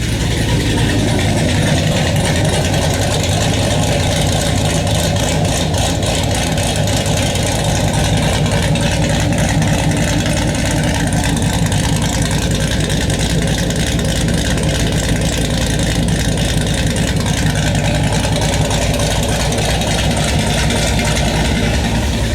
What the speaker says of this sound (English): just so you guys can get an idea what our bigger cam sounds like